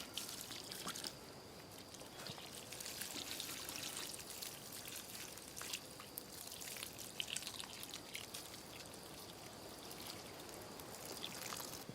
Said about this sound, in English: make sure you water them in after all the work's done.